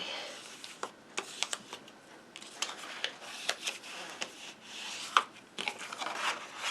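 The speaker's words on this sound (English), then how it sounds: "And I'm going to burnish all these folds." A bone folder rubs along scored paper folds on a Santa box craft, making soft, close scratchy strokes in short repeated passes of varying length, with no voices.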